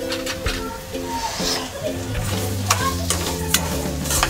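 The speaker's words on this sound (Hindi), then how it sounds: "इसको अभी हम भूनेंगे अच्छा से।" Samo millet roasting in a pan for fasting khichdi, with scraping stirring and soft sizzling in quick irregular strokes, close by, while a voice talks over it.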